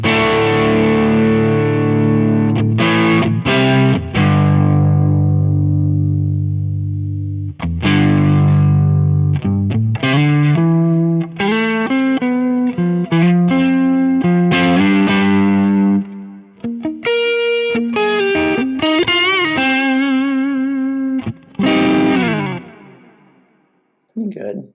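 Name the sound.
electric guitar through Ams Singer pedal capture on Quad Cortex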